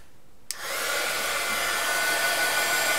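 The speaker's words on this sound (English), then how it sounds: "now I'm going to try drying this again a little better" A handheld hair dryer switches on with a click and then blows steadily and loudly, drying a saturated card background made with the Oxi Magic background technique.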